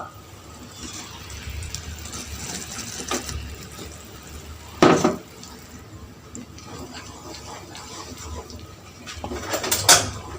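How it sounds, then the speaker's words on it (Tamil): Cashew paste for kaju katli being stirred in a pan with a ladle, giving soft scraping and clinking sounds with occasional sharper metal knocks, close by and moderately loud. "கட்டி விடாமல் நல்லா நம்ம கலக்கிக்கலாம்"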